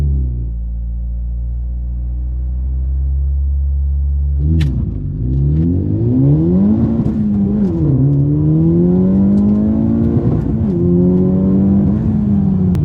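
A Honda Civic Type R idles with a low rumble, then launches hard in a 0 to 60 run. The engine revs rise loud and close, drop away at each gear shift and climb again.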